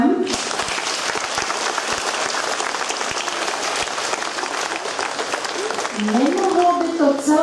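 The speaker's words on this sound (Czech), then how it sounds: "Já bych jim chtěla za jejich podporu poděkovat potleskem." An audience in a school theatre applauds a sponsor, dense steady clapping from many hands for several seconds, with a voice starting to speak over it near the end.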